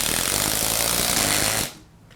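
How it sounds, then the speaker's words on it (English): A Ryobi QuietStrike 18V ONE+ oil pulse impact driver drives a fastener with a loud, steady, dense buzzing whir that runs for about a second and a half, then cuts off abruptly. "With an impact driver, you can install something like this very quickly and efficiently."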